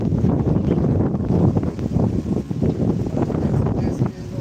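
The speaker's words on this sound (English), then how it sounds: "the wind is blowing there, so all the sand comes on us" Strong wind gusts across a beach in Fortaleza, buffeting the microphone in a constant loud rumble that carries blowing sand, while a person talks over the noise.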